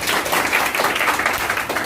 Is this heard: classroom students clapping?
yes